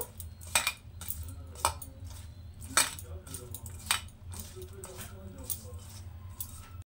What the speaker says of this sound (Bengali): তো এবার এটাকে খুব ভালো করে মেখে নেব